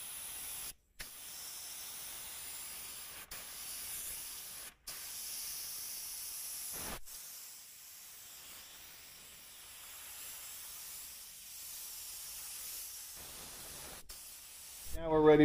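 Spray gun laying down a coat of 2K urethane primer, a steady close hiss of atomized spray running through most of the clip with a few brief gaps where the trigger is released.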